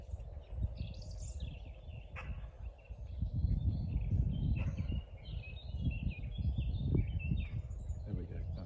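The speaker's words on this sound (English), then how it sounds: "it sounds like it's maybe a blackcap" A blackcap sings a scratchy, tentative warble in a dawn chorus, faint and somewhat distant, with other birds chirping over low, rumbling background noise.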